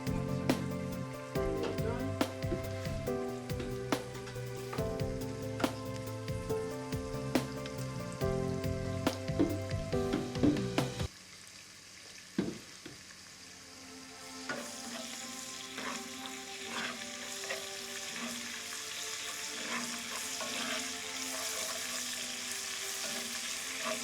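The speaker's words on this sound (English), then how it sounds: "I personally love to fry my onions in oil for virtually all my meals" Onions frying in oil for egusi soup give a steady crackling sizzle throughout, with clinks of stirring in the first half, and the sizzle grows brighter and hissier after a brief quieter moment.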